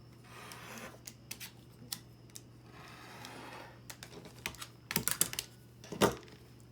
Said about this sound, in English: And then you take your rotary cutter and you trim around it.